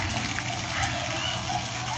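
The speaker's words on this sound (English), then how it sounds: "Bubbles are coming up from the water column that goes here." Water bubbles up from a pond mineralization tank, making a steady hissing, trickling wash of liquid noise that stays even throughout with no pauses.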